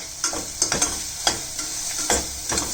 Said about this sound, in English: Add 1 tablespoon of coriander powder and again saute it